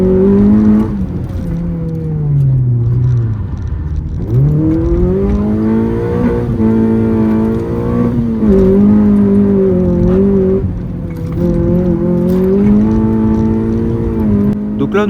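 Honda Civic with a naturally aspirated 1.4 litre engine revving hard while its wheels spin, loud and close, with strong harmonic engine tones rising and falling continuously as the revs swing up and down, no voices over it.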